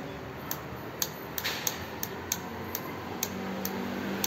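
An e-bike's hazard light flasher ticks in a steady, even rhythm of about two to three clicks per second, faint and close in a quiet setting, with no talking.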